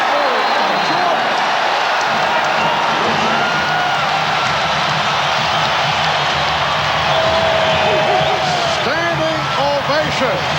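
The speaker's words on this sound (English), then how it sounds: "Standing ovation from this capacity crowd in Chicago." A capacity crowd in Chicago roars through a standing ovation at a 1997 playoff basketball game between the Bulls and the Washington Bullets, a dense and steady wall of cheering that runs the whole time with a commentator talking over it.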